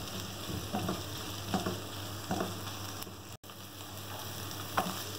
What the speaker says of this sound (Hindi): हल्का सा प्याज को सौते करने के बाद अब हम इसमें कीमा डाल देंगे, इसे फ्राई करेंगे